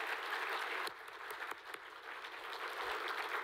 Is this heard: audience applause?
yes